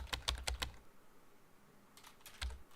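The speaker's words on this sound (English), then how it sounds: "It's typing for me. I can't actually type." Keyboard typing from the Edith Finch video game, a quick burst of four or five clicky keystrokes followed by a pause and then a few more scattered taps, fairly close and quiet.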